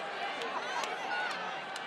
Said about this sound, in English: the crowd is starting to come to life.